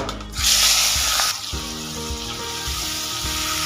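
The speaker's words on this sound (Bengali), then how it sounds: "এবার এর মধ্যে চিংড়ি মাছগুলো ভেজে নেব" Prawns dropped into mustard oil heated on a high flame hiss loudly at first, then settle into a steady crackling sizzle, close and continuous.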